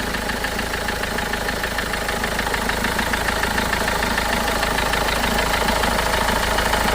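A Renault Duster RXL diesel engine idles steadily throughout, a continuous low rumble with a faint rhythmic knock, close by and unchanging in level.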